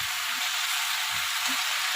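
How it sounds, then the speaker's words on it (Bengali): Malabar spinach fries with salt and turmeric in a pan, giving a steady loud sizzle with a few soft scraping thuds as it is stirred. "এখন আমি লবণ হলুদ দিয়ে একটু নেড়ে চেড়ে নিচ্ছি।"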